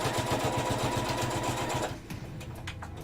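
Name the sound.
sewing machine stitching keychain bags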